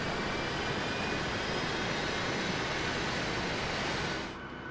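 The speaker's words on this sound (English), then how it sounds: "let's start engine number 2" A Boeing jet engine spooling up inside a flight simulator game, heard as a loud, steady, broad roar with a high whine on top that holds for several seconds, then cuts off abruptly near the end.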